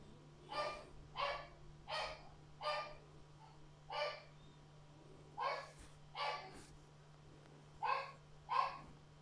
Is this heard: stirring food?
no